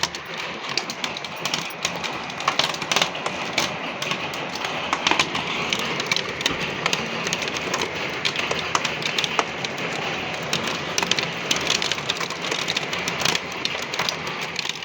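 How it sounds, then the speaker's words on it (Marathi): Large hailstones pelting down during a storm, a dense, steady patter of hard taps and knocks on surfaces outside a window, continuous and fairly close throughout. "मोठ्या मोठ्या गारा पडतोय"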